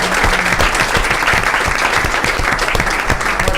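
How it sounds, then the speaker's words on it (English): A hearty round of applause fills a police commission meeting, dense steady clapping from a full room sustained throughout with a few voices mixed in. "So let's give him a nice round of applause."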